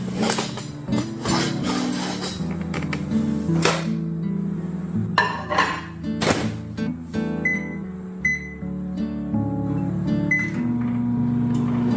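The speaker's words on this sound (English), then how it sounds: "Let's throw this in the microwave and melt the cheese." A microwave oven runs to melt cheese on a steak, its steady hum and clinking sounds filling the kitchen, with occasional beeps near the end.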